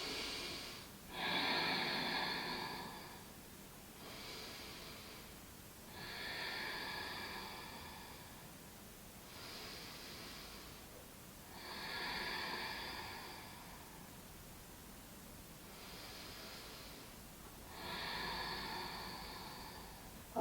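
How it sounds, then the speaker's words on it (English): A person takes slow, deep breaths while holding a yoga low lunge. Six or seven drawn-out breaths follow one another in an even rhythm, each a soft, airy rush close to the listener, with quiet pauses between them. "just take a couple of deep breaths here"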